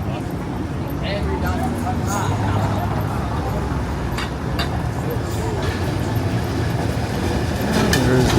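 On a downtown Toronto street, a 505 Dundas streetcar rumbles past with a steady loud rolling and clattering, heard over traffic noise and someone talking.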